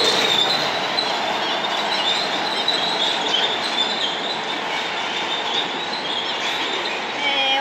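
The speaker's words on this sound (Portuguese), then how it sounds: "Eu acho que o vagão estava andando sozinho." A toy train wagon runs along its track with a steady, continuous rolling rumble and faint squealing. The sound is close and even throughout, with no talking over it.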